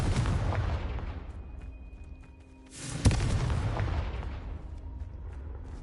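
Hogwarts Legacy spell combat: a deep, booming Confringo blast hits with a sudden thump and rumbles away, following an earlier rumbling impact and a quiet lull.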